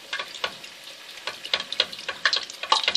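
Hot oil poured over folded samsa pastry sizzles with irregular crackling bursts, close and moderately loud, with no voices.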